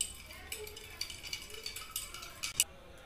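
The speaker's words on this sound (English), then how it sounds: "So finally our dirty water, I will stir it properly." A utensil stirs dirty water in a container during a homemade water filter experiment, with faint swirling and a series of light, irregular clinks against the vessel.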